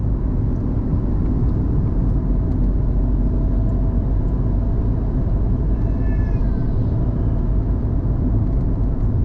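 Steady car engine drone and road noise from inside a vehicle driving on a highway with light traffic, a continuous loud low rumble with no speech.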